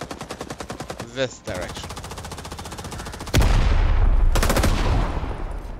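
Gunfire in the World War II shooter Rising Storm: rapid machine-gun bursts in steady rhythm, a brief whine, then heavier continuous automatic fire that grows louder and denser, with someone speaking briefly over it.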